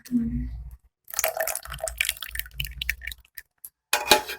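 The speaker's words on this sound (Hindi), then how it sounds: "और जो इसका पानी था वो भी मैं इसके अंदर डाल दूंगी।" Water from soaked tamarind and dried plums for sharbat is poured into a jug, with splashes and drips coming in short bursts and gaps, and someone speaking in between.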